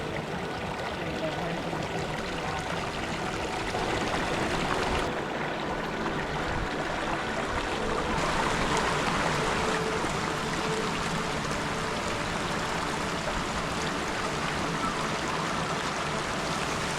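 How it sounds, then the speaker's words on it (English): Creek water rushes steadily over rocks at a creek crossing in the Cranberry Wilderness, a continuous close broadband flow with no voices. "it looks like we have made it to creek crossing number 2 for the day"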